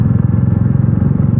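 A motorbike rides a rough, rain-dirtied road on the way to Thana Dam, a loud, steady, close engine drone with rattling under it throughout.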